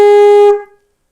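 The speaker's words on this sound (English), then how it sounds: "There's shvarim, which is three shorter notes." Shofar blown in the shvarim call, heard here as one sustained, bright horn tone of about half a second that cuts off and fades quickly, loud and close with no other sound.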